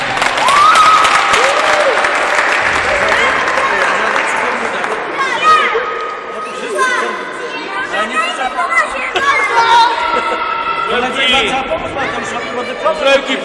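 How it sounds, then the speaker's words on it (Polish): Applause at an indoor youth football tournament award ceremony, clapping from a crowd of players and parents that fades into loud, overlapping chatter and children's voices as people talk over one another. "Brawa dla fundatora i brawa dla drużyny"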